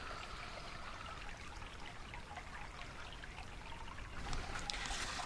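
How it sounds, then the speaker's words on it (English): A small spring trickles out of the corner of an old concrete foundation in the woods, giving a steady, close, continuous watery wash that grows slightly louder near the end. "a little spring coming out of here"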